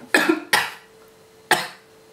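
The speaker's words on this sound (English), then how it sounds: "Cover your mouth when you cough." Three sharp coughs close by, two in quick succession and then a third after a short pause, with quiet between them.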